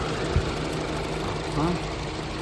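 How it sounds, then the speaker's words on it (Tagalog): A 2.4-liter gasoline engine in a 4WD crossover idles steadily at close range, giving an even low hum with a slight knock, under faint background noise. "Ganda ng timing ng makina niyan"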